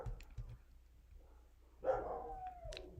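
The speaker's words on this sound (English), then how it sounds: "the whole neighborhood dogs are going off like you wouldn't believe" Neighborhood dogs bark in a few scattered, distant yaps, followed by a longer, louder whining howl that trails off, heard outdoors with no talking.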